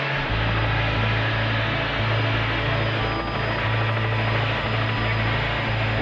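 Apache powerboat engines at rough throttle at about 90 mph give a loud, steady, droning roar with a low pulsing throb that stays constant throughout, with no voices.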